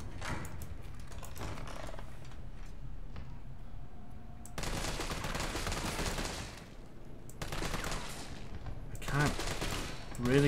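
Gunfire from a handgun in the video game Resident Evil 3, scattered shots over a busy game soundtrack, with louder bursts around the middle and near the end while a player talks over it.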